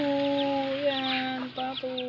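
Pet chickens, including white layer hens, cluck and call while being fed outdoors among ducks, with several close, tonal clucks and a brief squawky burst over a steady background.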